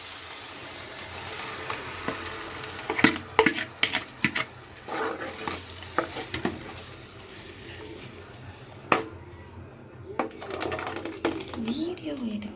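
Tomatoes with chili powder stirred and frying in oil for Tomato Chaabees, a steady sizzle under clattering spoon scrapes and a few sharp knocks against the pan, with someone talking over it.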